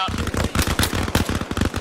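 Dense rapid gunfire in the video game Arma Reforger during a 40-player night urban militia battle, continuous bursts of automatic fire cracking close and loud throughout, with a voice partly heard underneath.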